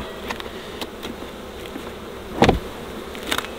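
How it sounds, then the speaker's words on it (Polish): Bees buzzing in a low, steady hum close by, with a few soft knocks and taps breaking through. "Uciekać pszczoły."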